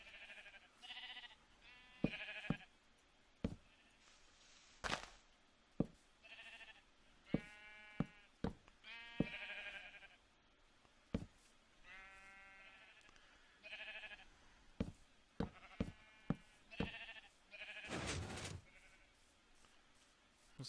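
Minecraft sheep bleating in the game: a series of short, wavering baas scattered across the stretch, some overlapping, mixed with brief clicks and game sounds, with no talking.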